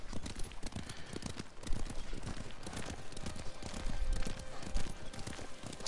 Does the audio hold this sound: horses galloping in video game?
yes